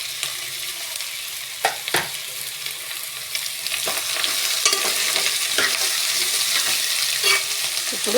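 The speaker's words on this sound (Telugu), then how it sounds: "ఇప్పుడు కట్ చేసుకున్న దోసకాయ ముక్కలు వేసుకోవాలి." Cucumber pieces and dried fish sizzle in hot oil for a curry, a continuous frying hiss with occasional sharp stirring scrapes and clicks throughout.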